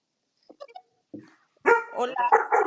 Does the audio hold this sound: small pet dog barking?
yes